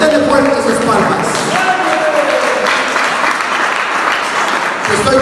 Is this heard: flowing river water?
no